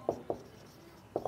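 A pen writing on paper during a math lesson, giving a few short, distinct scratchy strokes close by, separated by a quiet pause.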